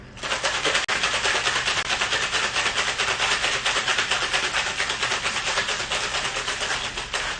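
Rapid, steady rattling of ice inside a cocktail shaker, vigorous and continuous for several seconds, loud and close.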